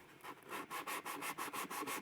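Quick rhythmic rubbing strokes of sandpaper on wooden purfling of an archtop guitar, close and steady, about ten back-and-forth passes in a row.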